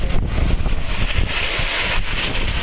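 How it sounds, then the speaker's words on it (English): Strong sandstorm wind roars steadily across a parking lot among buildings in Phoenix, Arizona, buffeting the microphone with loud, continuous gusts throughout. "the wind slowed down a little bit."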